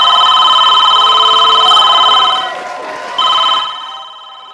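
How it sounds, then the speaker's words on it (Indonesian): A telephone rings loudly with a bright electronic trill, pauses briefly, then rings again before cutting off. "Telepon udah bunyi aja."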